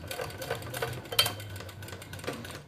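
An iKonix KS-0303 walking-foot industrial sewing machine makes its first test run, stitching in short, quick, clattering bursts close to the listener.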